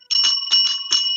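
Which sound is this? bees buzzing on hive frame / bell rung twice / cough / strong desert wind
bell rung twice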